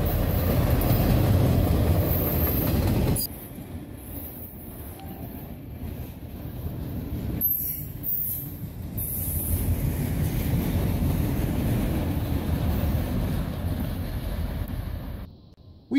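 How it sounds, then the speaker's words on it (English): Norfolk Southern SD70M-2 diesel number 2726 hauls a westbound train of empty auto rack cars through Phillipsburg, New Jersey, a steady rolling rumble of wheels with wind buffeting the microphone and abrupt level shifts. "Norfolk Southern, number 2726, is the only diesel required to pull this westbound auto rack train."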